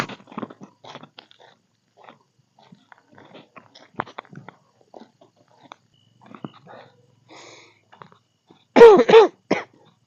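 A couple of sharp coughs from someone with a cold near the end, close and loud, after a stretch of faint rustling and quiet sounds.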